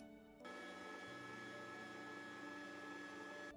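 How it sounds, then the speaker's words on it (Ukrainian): An electric meat grinder mincing day-old white bread and vegetables switches on and runs as a steady motor whine and hum, faint and constant with no voices. "Білий вчорашній хліб та овочі пропускаємо через м'ясорубку."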